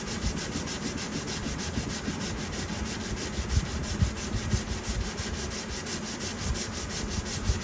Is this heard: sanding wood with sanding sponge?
yes